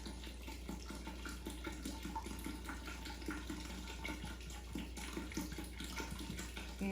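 Raw, unfiltered apple cider vinegar pours in a steady, continuous stream into a container, a faint even liquid rush over a low background hum.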